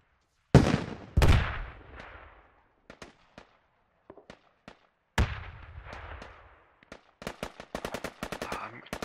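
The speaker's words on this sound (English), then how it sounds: "He's currently sitting at 18-3, just lobbing grenades down into the fields that three mob is occupying." Grenade blasts and gunfire from a multiplayer match on the map Kohat: two loud booms open, then scattered sharp shots and a rapid burst of fire near the end, with gaps of quiet between.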